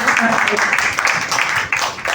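Crowd applause welcomes MLC candidate Gulshan Kumar at a village panchayat gathering in Bhagalpur-Banka, a steady mid-distance clapping that holds for about two seconds with a brief dip, while voices carry on underneath.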